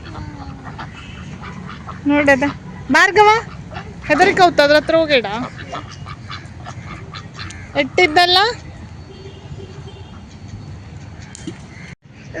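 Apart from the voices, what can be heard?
ducks quacking at a temple pond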